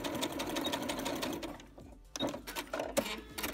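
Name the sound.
sewing machine backstitching a kimono seam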